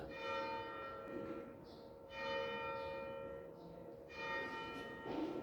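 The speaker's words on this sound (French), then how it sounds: "Les cloches sonnent." Church bells of the Cathédrale Saint-Nazaire in Béziers ring in slow repeated strokes, heard from a distance with long resonant decays.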